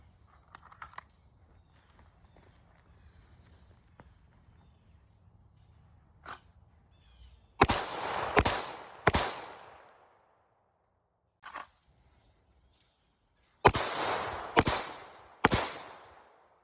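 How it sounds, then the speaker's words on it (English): Handgun shots at an outdoor shooting range during a one-handed draw-and-fire drill: two quick bursts of three sharp, loud reports each, with a quiet pause between, and a few faint clicks earlier. "we're gonna do just a single hand draw and then shooting with our dominant hand"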